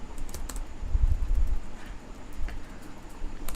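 Python code tapped out on a computer keyboard, a close run of quick, uneven key clicks with a few short pauses and no voices.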